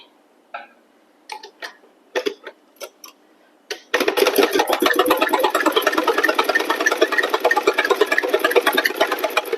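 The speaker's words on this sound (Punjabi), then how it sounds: "ਹੁਣ ਸਲਾਈ ਲਾ ਲੈਣੀ ਇਹਦੀ ਇੱਥੋਂ ਇਦਾਂ ਹੀ ਗੁਲਾਈ ਹੋ ਜੇਗੀ" A sewing machine stitches a sofa cushion cover, starting after a few short bursts of handling and clicks, then running in a steady, close, rapid mechanical chatter for the remaining several seconds with no talk.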